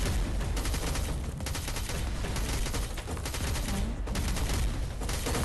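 Dense, sustained gunfire in a mobile shooter game, rapid overlapping shots blending with explosive effects in a loud, continuous barrage with no pauses.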